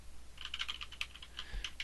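Someone types on a computer keyboard while coding a C# program for an Excel spreadsheet, producing rapid, uneven clicks of keys close to the microphone, with a heavier thump near the end.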